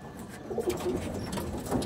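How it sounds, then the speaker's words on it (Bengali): Andhra pigeons coo softly in low, throaty bursts, several rolling calls close by against a quiet background. "দুটোই আন্ধ্রা পায়রা।"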